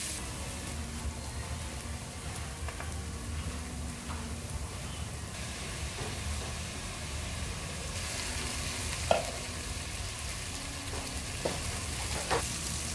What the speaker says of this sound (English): Now time to add in our onions and the green chili with the curry leaves.